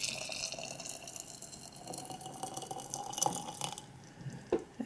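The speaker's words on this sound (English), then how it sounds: "And I'm just going to soak them in some boiling water." Boiling water poured into a container over garlic cloves, pine nuts and cashews, a faint steady trickling stream followed by a few soft splashes and clinks near the end.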